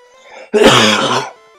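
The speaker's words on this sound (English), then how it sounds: "I don't mean to cough this much." A single loud, harsh cough or throat clear bursts out close to the microphone after a brief faint lead-in.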